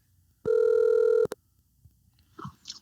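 A telephone sounds a single steady electronic tone for about a second while a call is placed, followed by a short click. Faint background noise and brief voices follow.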